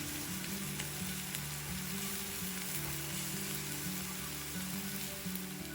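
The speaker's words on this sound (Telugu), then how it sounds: "ఇప్పుడు ఈ మసాలాను కూడా 1 నిమిషం వేగనివ్వండి." Ground masala fries in a pan for chicken fry, making a dense, even hiss of sizzling oil that holds steady throughout, close but quiet, with no speech.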